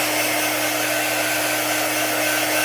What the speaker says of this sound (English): let's get our dryer out and dry our wood cutouts.